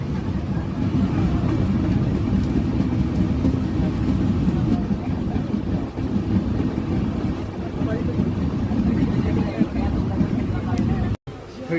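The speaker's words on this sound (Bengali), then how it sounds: "ভালো গতিতে এখন ট্রেন চলছে" Passenger train running at good speed on the Rajshahi to Dhaka route, heard from inside as a steady loud low rumble and rattle throughout, with a brief dropout near the end.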